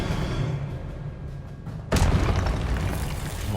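A spell explosion in Hogwarts Legacy bursts suddenly into a loud, broad boom partway through, following a rumbling stretch of combat noise, and the blast's roar keeps rolling on afterward.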